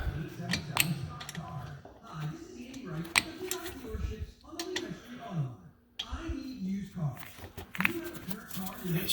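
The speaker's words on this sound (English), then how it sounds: "go ahead and take our Allen key, put it in there, and here we go" An Allen key tightens bolts during brake service on a 2019 Jeep Grand Cherokee, giving clicking, ratcheting metal sounds in short bursts, close by, with faint background noise between the turns.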